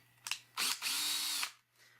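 A power drill bores a hole for a solar rack, with a short rev at first, then a sustained high whine for about a second as the bit cuts, then it stops. Close and loud, no talk.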